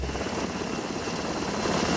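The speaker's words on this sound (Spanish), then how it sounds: "El sonido de los 5 helicópteros artillados que llegaron a la zona" Five helicopter gunships arrive over a jungle area with a cocaine laboratory, a steady, loud rotor and engine drone that holds throughout and swells slightly toward the end.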